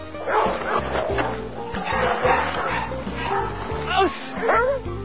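German Shepherd guard dogs at a canine training facility bark, yip and whimper continuously and loudly, several overlapping calls at close range, with a voice heard under the barking.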